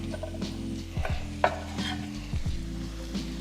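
Green onions sizzle in a hot pan as a utensil stirs and scrapes them, with repeated clinks against the pan over a steady frying hiss, close up and without talk.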